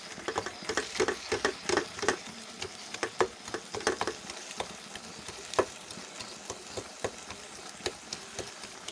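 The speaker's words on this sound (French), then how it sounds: "je choisis d'écraser toutes les tiges de cette partie de la casserole" Fern stems, misilis, being crushed in a cooking pot, giving repeated soft crunching and squishing taps in an irregular rhythm, close and fairly quiet, with no talk.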